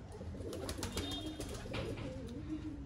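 A pigeon coos softly in low, throaty murmurs against a faint background hum, heard up close for a few seconds.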